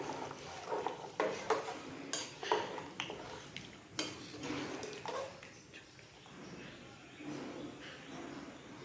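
A metal spoon stirs bitter gourd, egg and tamarind curry in a pot, making close, irregular scrapes and clinks against the sides with some soft sizzling underneath.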